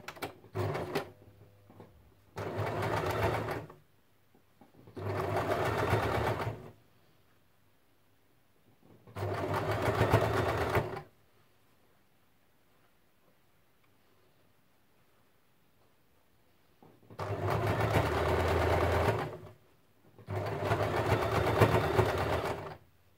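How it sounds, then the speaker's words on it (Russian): Sewing machine stitching a one-centimetre seam along a ruffled fabric border, running in five separate bursts of a few seconds each with quiet pauses between, steady and close. "Теперь прострачиваем наш бортик на сантиметр"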